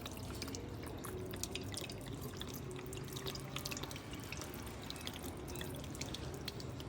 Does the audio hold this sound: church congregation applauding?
no